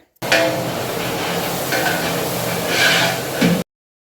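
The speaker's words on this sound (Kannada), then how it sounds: "ನೆಕ್ಸ್ಟು ಶುಂಠಿ ಬೆಳ್ಳುಳ್ಳಿ ಪೇಸ್ಟನ್ನು ಹಾಕ್ಕೊಂಡು ಚೆನ್ನಾಗಿ ಹುರ್ಕೋತಾ ಇದ್ದಾರೆ." Onions and ginger-garlic paste fry in hot oil while being stirred, giving a close, steady sizzle with scraping surges for a few seconds, then stopping abruptly.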